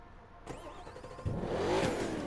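Volkswagen V8 racing car engine in The Crew 2 racing game, revving up from a steady mid-pitched drone into a louder, rising surge partway through, close and continuous with no talk.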